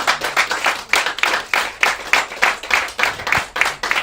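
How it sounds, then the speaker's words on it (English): Audience clapping at a cocktail competition heat in New South Wales, a small group clapping in rhythmic bursts, fairly close and distinct, with no talking. "give him a clap, everyone"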